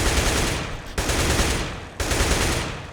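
Automatic rifle spray in CS:GO, three loud continuous bursts of rapid fire, each about a second long with sharp onsets, close and dense with no talk over them.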